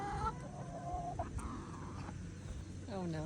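Hens in a chicken coop cluck and squawk, agitated by a rat snake, with close, rising calls and a faint voice in the background.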